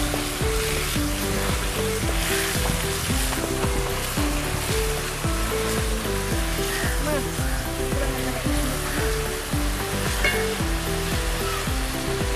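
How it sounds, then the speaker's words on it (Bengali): Onion fries in a pan while making an egg and soya chunk dish, giving a steady, dense sizzle that sits under loud, continuous tonal background music. "পেঁয়াজটাকে সামান্য কম ভেজে নিচ্ছি"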